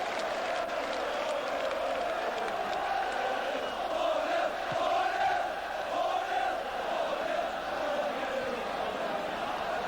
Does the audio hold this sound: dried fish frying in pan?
no